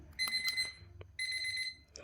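An alarm clock rings in two bursts of rapid, high-pitched beeping, the first short and the second following after a brief gap, with a faint click between them in a quiet room.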